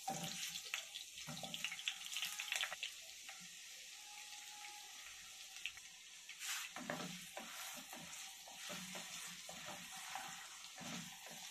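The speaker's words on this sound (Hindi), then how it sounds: "अब आलू फ्राई करते हैं।" Potatoes fry in oil in a pan for an aloo paneer curry, a steady broadband sizzle running throughout with intermittent clinks and scrapes of stirring, close and moderately loud, no talking.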